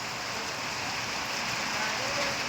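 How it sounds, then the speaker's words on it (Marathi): Steady, dense unseasonal rain falls in the midst of summer in Shahuwadi, an even close hiss of drops hitting surfaces that holds at one level throughout. "भर उन्हाळ्यात पावसाची हजेरी आहे शाहूवाडीतील हे चित्र आहे"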